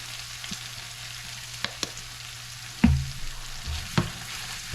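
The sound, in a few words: honey garlic wings cooking in pan with honey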